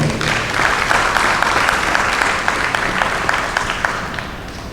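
Applause from a senior awards ceremony audience, a steady crowded patter of claps that holds fairly loud before gradually thinning and fading toward the end.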